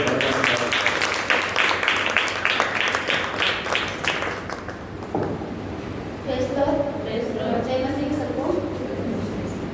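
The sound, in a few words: audience applause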